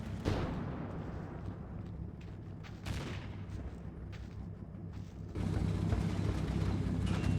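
Heavy machine gun fire in the WWII strategy game Combat Mission Final Blitzkrieg, with Sherman tanks on the flank: scattered bursts and booming reports over a rumbling battle bed, growing louder and denser toward the end, no voices.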